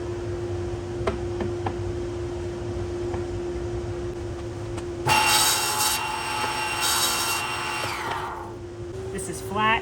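A saw blade rips through a wooden block for a mallet, a bright whining cut rising abruptly midway and running a few seconds before tapering off, preceded by a steady machine hum.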